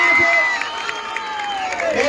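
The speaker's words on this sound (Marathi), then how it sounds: "एका टाळ्यांचा जल्लोष." At a village kabaddi match, a crowd cheers and shouts with scattered clapping, mixed with a loud commentator's voice over the din.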